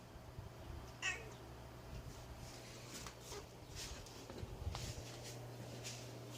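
Milo, a pet cat, meows indoors. There are a few short, fairly faint meows at spaced intervals, with light shuffling noises in between and no talking.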